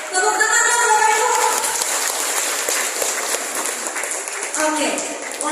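A room of teachers claps together at a school gathering, a loud, dense burst of applause that carries on steadily for several seconds while voices call out over it.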